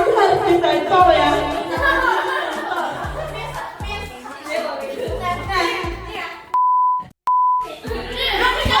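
Children talk and laugh in a lively school open house setting, and a steady censor beep tone cuts over their speech twice near the end.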